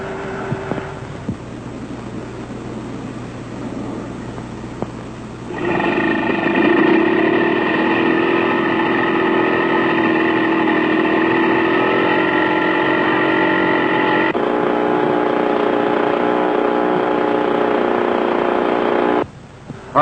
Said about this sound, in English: we use an external source of electrical power to start the engines